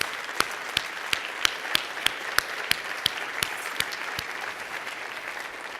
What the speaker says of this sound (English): Please, another round of applause for our friend and advocate, Brad Strong.